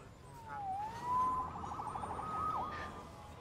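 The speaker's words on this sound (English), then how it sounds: "Saved by the siren." A wailing police siren in a Spider-Man video game sweeps and warbles at moderate volume, with steady background noise underneath and no voices.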